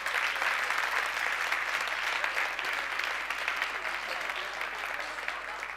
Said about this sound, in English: give him an encouraging applause